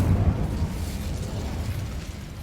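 Incendio fire spell cast in Hogwarts Legacy, a steady roaring whoosh of flame with a low rumbling burst at the start, loud and sustained for the full moment with no talking.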